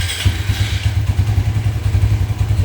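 A motorcycle fitted with an Aracer wideband sensor starts up and settles into a loud, close, rapid thumping idle that stays steady throughout.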